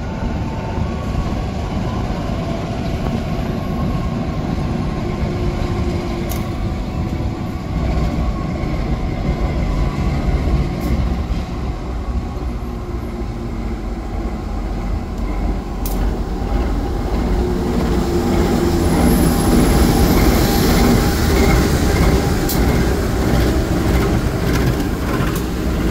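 The Blambangan Express from Ketapang to Jakarta Pasar Senen pulls into Rogojampi station with a loud, steady rumble of rolling wagons, faint clicks and squeals over the rails, building slightly toward the end.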